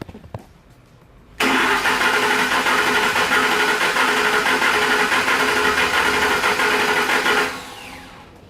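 A Ford F150 engine is cranked by its starter during a compression test on cylinder 8, a loud, steady rhythmic whir lasting about six seconds before winding down, close by with no talking.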